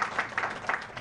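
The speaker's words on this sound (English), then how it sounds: "Give her a round of applause" An audience at a Buddhist New Year teaching applauds with a short, fairly faint patter of clapping in a few soft swells.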